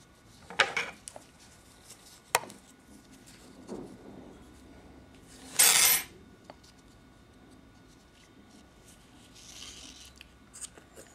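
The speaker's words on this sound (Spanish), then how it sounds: "Y voy a cortar un poquito el hilo ese" Scissors snip through crochet yarn on an amigurumi Hello Kitty, one clear close cut standing out among light rustles and small handling clicks, with no voices.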